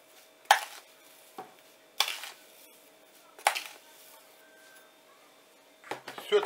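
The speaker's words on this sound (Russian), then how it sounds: "Все это перемешиваем." Coarse salt and sugar mixed in a container for a cold-smoking brine, giving four separate gritty scraping stirs with short gaps, close and fairly quiet, with no talking.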